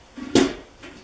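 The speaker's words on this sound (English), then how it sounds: "close the oven to keep the temperature in." A kitchen oven door swung shut during roasting a chicken, one solid close-up thud with a short rattle, followed by a faint softer knock, no voices.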